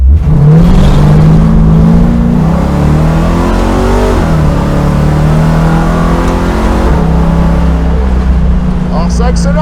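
A Dodge Charger accelerates hard down a straight road, its engine roaring loud and close with a rising, sustained pitch that climbs through gears, a deep rumbling drone dominating throughout.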